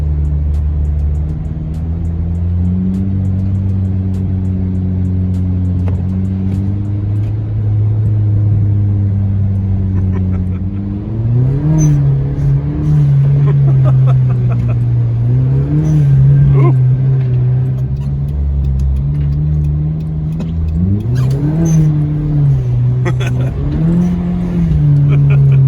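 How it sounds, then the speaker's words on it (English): A 2011 Hyundai Genesis Coupe 2.0T, rear-wheel drive, drifts through snow, its turbo four-cylinder droning steadily and revving up in rising surges, loud and close from start to finish, with brief voices now and then. "This Genesis is pulling through here pretty good to be a rear-wheel drive car."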